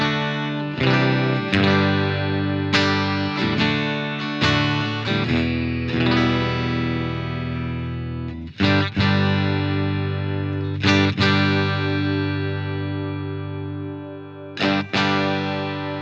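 Glassy clean electric guitar through a Two Notes Revolt pedal, playing a loose run of strummed chords and ringing single notes with long sustain and a touch of shimmer, close and unaccompanied by speech.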